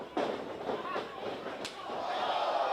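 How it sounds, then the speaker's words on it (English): A heavy elbow strike lands in a wrestling arena, a sharp slam with a ringing echo off the walls, followed by crowd noise and commentary voices. "just look at echoing off the walls, that big elbow shot"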